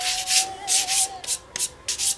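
Sanding block rubbed back and forth along guitar frets during fret leveling, a series of about six dry, raspy abrasive strokes in steady rhythm, close and clear with no talking.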